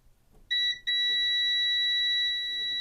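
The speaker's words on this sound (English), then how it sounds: "if I put a probe on the output side and a probe on the input side, we should hear it beep." A multimeter set to continuity sounds across a rice cooker's thermal fuse with a loud, steady, high-pitched beep that starts, stutters once, then holds for over two seconds in a quiet room.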